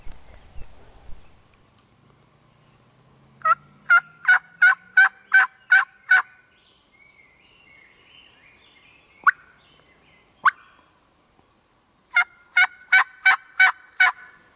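Wild turkey calls carry across open ground in hunting season: two bursts of about seven sharp, evenly spaced notes, separated by a few isolated clucks, loud against a quiet background.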